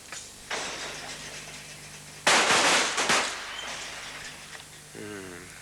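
Sharp gunshots at a 1985 Champion of Champions shooting competition in Narrabeen, Australia: a few separate reports, one loud near crack in the middle, heard under a commentator's voice.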